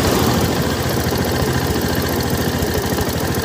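Honda Activa scooter idling with its kick lever up, giving a steady mechanical rattle and hum from the clutch cover side, loud and continuous throughout with no talking.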